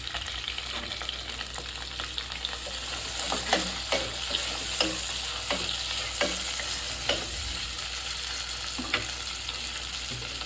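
Onions and curry leaves fry steadily in a pan for fish curry, a continuous sizzle with periodic scraping stirs of a spoon against the metal, no talk.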